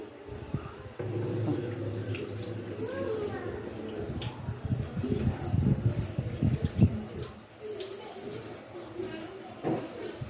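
Water is poured off soaked sago grains in a kitchen, a steady splashing stream running for several seconds with a few brief spatters and clinks, then tailing off into lighter trickles.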